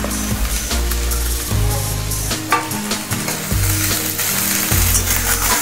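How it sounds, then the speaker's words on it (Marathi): Cabbage, capsicum and spring onions are stir-fried over a high flame for egg fried rice, producing a loud, continuous sizzle broken by repeated scraping and tossing strokes in the pan. "भाज्या मोठ्या गॅसवरती छान अशा परतून घ्यायच्या आहेत"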